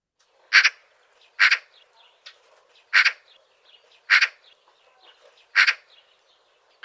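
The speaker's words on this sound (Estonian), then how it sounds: "Puuduta linde ja kuula, mis häält nad teevad. Nii, puuduta. Harakas." A Eurasian magpie call played back from a bird sound app: five loud, harsh bursts spaced about a second apart, with faint softer chatter between them and no talking.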